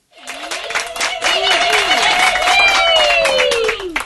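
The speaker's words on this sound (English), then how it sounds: "The thunderous clapping shows how happy you are after electing the new school management committee." Thunderous clapping from a school crowd after a school management committee election, loud and sustained throughout with dense broadband claps and a tonal sweep running through it.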